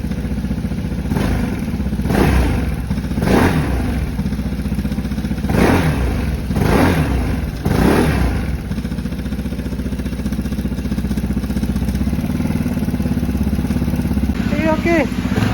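A 2024 Vespa GTS 300 scooter engine runs close by, swelling in a series of rhythmic revs before settling to a steady idle, while a person talks over it.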